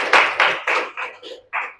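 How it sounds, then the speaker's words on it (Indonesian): A short burst of classroom applause for a student group: several separate claps and taps, close and fairly loud, fading unevenly over under two seconds. "Tepuk tangan untuk kelompok"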